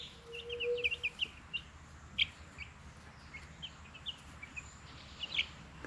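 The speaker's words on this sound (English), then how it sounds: "Thought I'd just show you a close-up of the chickens today." Backyard chickens in a close-up outdoor setting give scattered short chirps and clucks, fairly faint over steady ambient noise, with no talking.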